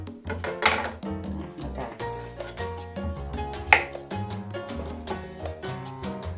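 Knife chopping bell pepper on a board while preparing a vegetarian dish, a quick, irregular run of close, sharp taps with occasional louder knocks, heard alone without talk.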